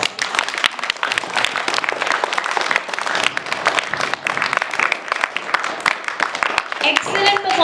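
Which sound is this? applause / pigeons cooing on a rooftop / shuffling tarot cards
applause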